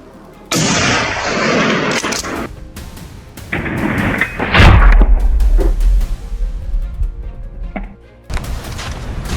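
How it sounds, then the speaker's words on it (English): Rifle gunshot fired at a wild boar in snow, a sharp loud report with a heavy booming tail, followed by more scattered thumps and booms, close and prominent, with no talk. "the marksman tracked the beast's movements and fired"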